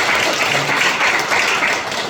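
Church congregation at a Sunday morning service applauding a round of birthday congratulations, a steady dense wash of clapping held evenly throughout, fairly loud and close, with no talking over it.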